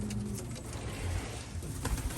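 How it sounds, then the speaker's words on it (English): Racing pigeons coo softly in a loft, low murmuring calls repeating under a dense, noisy background. "So this is an update on the new pigeons."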